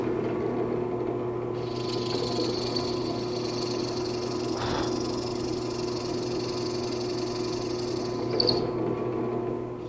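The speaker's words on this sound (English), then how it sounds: "Now I'll go ahead and drill a series of plugs that are at least 1/8 inch thick." A drill press with a 3/8 inch plug cutter works into wood, a steady high whine over a constant motor hum, rising briefly at two points as the cutter bites.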